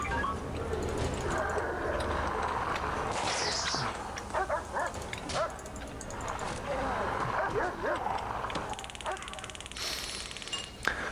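A dog barking in The Escapists prison game, a few short yips and barks scattered through a busy game soundscape while someone talks over it.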